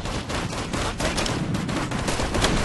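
Heavy, dense bursts of automatic rifle and machine-gun fire in the military shooter Operation Flashpoint: Red River, rapid cracks overlapping in a loud, continuous volley without talk.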